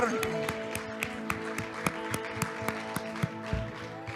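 Worshippers in a church clap steadily in time with sustained music, each clap a sharp, evenly spaced beat, with a voice present faintly underneath.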